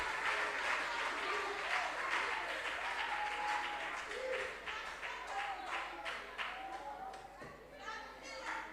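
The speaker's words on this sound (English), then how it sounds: "A round of applause for these 2 young men." Applause for two young contestants at a national junior science and maths quiz championship, a steady wash of clapping from the hall that runs throughout, with voices talking over it.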